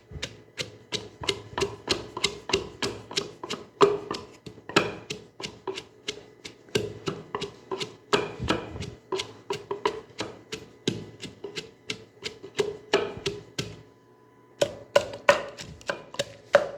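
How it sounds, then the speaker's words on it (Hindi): Onions being pounded for chicken seekh kabab, a rapid, steady run of sharp knocks close by, with a brief pause near the end before the pounding resumes. "अब इसमें हम प्याज डाल रहे हैं, क्योंकि प्याज को भी हमने सही तरीके से कूटना है।"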